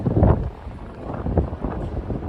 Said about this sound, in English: It's crazy windy tonight.